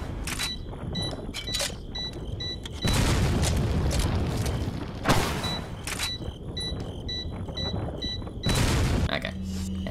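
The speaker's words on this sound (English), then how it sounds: "I'm only going to fire 2 shots." Resident Evil 4 gameplay delivers several loud booming gunshots with sharp attacks and long decaying tails, spaced a few seconds apart amid clicking mechanical game sounds.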